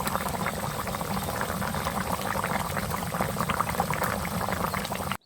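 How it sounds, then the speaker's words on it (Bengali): Potato and bori curry bubbling steadily in a pot, a continuous close, dense simmering boil with no talk and a brief cutoff at the very end. "এবার 5 মিনিট মতো ফুটিয়ে নিয়ে নামিয়ে নেবো"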